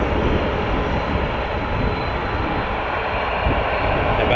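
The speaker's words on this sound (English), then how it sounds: "Jazz 416 to Penticton in the Okanagan on a Dash 8-400 lining up" A Jazz Dash 8-400 turboprop lines up for departure at Vancouver airport on a flight to Penticton, producing a steady, broad engine roar that holds at an even level throughout with no talk.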